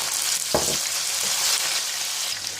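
Chopped tomatoes sizzle and crackle in a pan of frying onions for a chana pulao, a steady close hiss with a brief louder burst of spatter early on and no talking.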